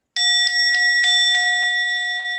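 A meditation bell at a Zen retreat, struck once and ringing with a steady, bright sustained tone that holds at near-constant loudness throughout.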